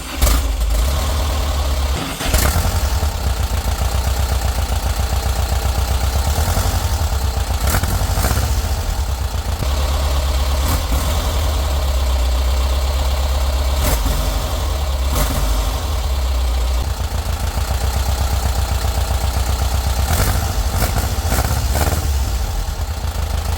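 A 1973 Volkswagen Bus engine running after repair work, a loud steady idle with a low rhythmic thrum and occasional brief clicks and bumps, heard close and continuous with no talking.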